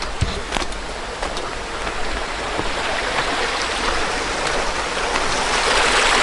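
Blauthaler waterfall pours steadily, a dense continuous rush of flowing water that swells slightly louder toward the end, with no talk.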